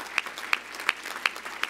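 Sparse applause from an audience at a Martin Luther King Jr. community leaders celebration honoring a late congressman, with a few distinct loud claps standing out at a steady rhythm over a soft background of clapping.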